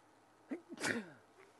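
A single sharp sneeze, fairly close but soft, in an otherwise quiet setting.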